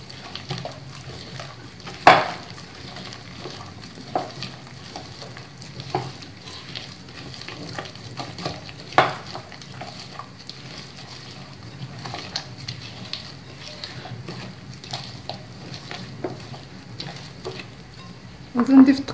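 Sablé cookie dough being mixed in a bowl after an egg and cocoa go in, giving soft intermittent scraping and stirring with occasional sharper clinks and knocks, fairly quiet throughout.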